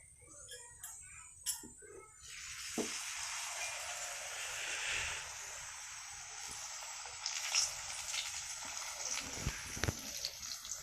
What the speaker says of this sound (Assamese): এয়া কেৰাহীত তেল দিলোঁ আৰু